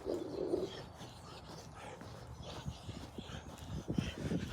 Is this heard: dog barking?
yes